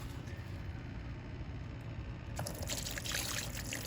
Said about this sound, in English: and then I'll fill it up with some fish water.